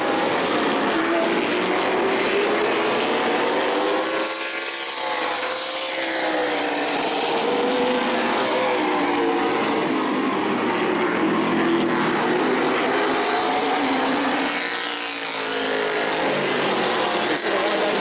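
Modified race cars at speed during the Modified 50 at New Smyrna, a loud, continuous engine roar with rising and falling pitch as cars sweep past close by.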